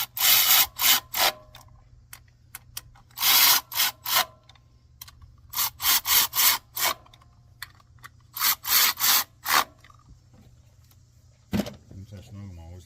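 Spark plugs on a 2006 Toyota RAV4 2.4 liter being snugged into an aluminum head, a series of close, loud ratcheting bursts in irregular groups with short pauses between.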